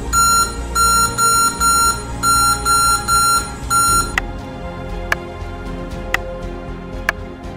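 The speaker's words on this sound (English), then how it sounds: "the laptop starts with it removed. There will be beeps and nothing on the screen." An HP Victus laptop powering on with its RAM removed gives a run of rapid, shrill electronic beep bursts in a regular pattern. Then come a few single sharp clicks at about one-second intervals, over a low background hum.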